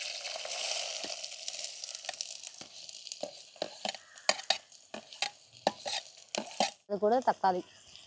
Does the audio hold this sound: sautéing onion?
yes